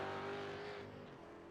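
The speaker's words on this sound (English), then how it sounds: "Revs come up." Race car engine in a racing video game at Bathurst revving up under a steady high whine with tyres sliding, loud and continuous, easing slightly toward the end.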